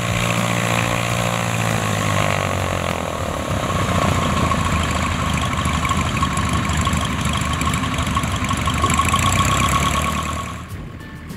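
A small training airplane taxiing with its engine running, a loud, steady droning rumble with a buzzing propeller tone that holds the whole way through and drops slightly at the end.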